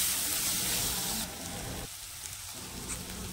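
Chopped tomato frying with spice masala in a pan produces a continuous hissing sizzle, loud at first and then softer and steadier after a second, heard alone without voices.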